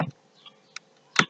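A few separate computer keyboard keystrokes while filling in a time field on a form, with a lone tap early on and a denser cluster of clicks at the end, close and clear over near silence.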